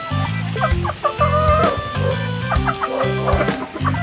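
Rhode Island Red chickens crossbred with native chickens, clucking close by in repeated short bursts, with several birds overlapping in a busy, continuous chatter.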